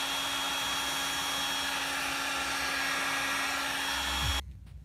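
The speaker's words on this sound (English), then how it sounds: "I can just put the shrink tube over, hit it with a heat gun, and then it'll be insulated" A heat gun blows steadily to shrink heat-shrink tubing over soldered wire leads on a CNC conversion build, a constant loud whooshing roar with a faint hum that cuts off abruptly near the end.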